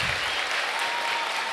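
A debate audience applauds, a dense, steady burst of clapping that fills the whole moment at close range, with no voices standing out.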